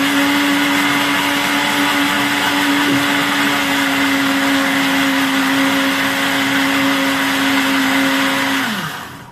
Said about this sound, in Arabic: الميزة في الخلاط انه بيقلب وبيفك كل محتويات كوباية الزبادي